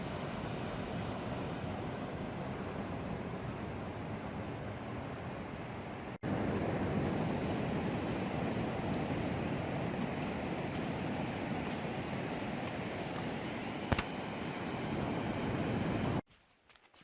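Ocean waves wash onto a beach on the North Coast Trail of Vancouver Island, a faint, continuous roar of surf mixed with wind rumble, steady throughout with one brief break.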